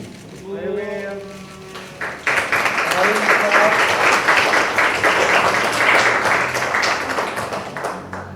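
A crowd claps loudly and steadily at an Indonesian political event, the applause building after a brief spoken line and continuing dense and close for several seconds.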